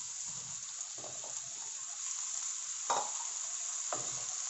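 Pork menudo with potatoes stirred in a pot over a steady sizzle, with a few distinct scraping stirs standing out above the frying hiss, close and moderately quiet, with no talking.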